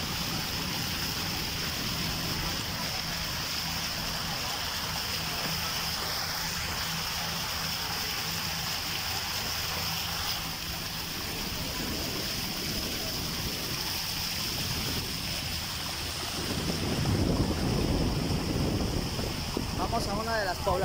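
A motorboat travels along a flooded river, a steady outboard drone with wind buffeting the microphone throughout and water rushing louder toward the end; a voice is faintly present.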